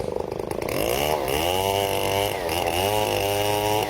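An 8.5-horsepower chainsaw with a Stihl chain runs loud and close, revving up and down with a rising and falling whine, no voices.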